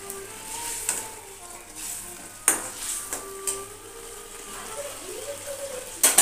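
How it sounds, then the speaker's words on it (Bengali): Bengali fish curry (macher jhal) cooking in a pan, a close bubbling sizzle with intermittent stirring clinks and a few louder scrapes, steady at moderate loudness. "আর এখানে মাছের ঝাল হচ্ছে।"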